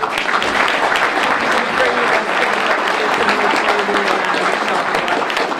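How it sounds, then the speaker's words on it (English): Audience hand-clapping at an NAACP Martin Luther King Jr. breakfast, loud sustained applause filling the hall with scattered cheers and voices mixed in, continuous throughout. "Please give these fine people a hand clap."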